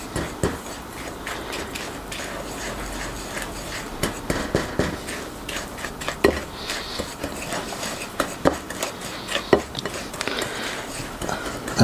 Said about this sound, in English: give them a good mix around